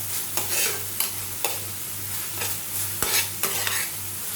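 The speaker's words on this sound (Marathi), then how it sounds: "व्यवस्थित मिक्स करून घेऊया" Soaked dried shrimp being stirred into fried masala with spring onion, a spatula scraping the pan in repeated close strokes over a steady low hum and light sizzle.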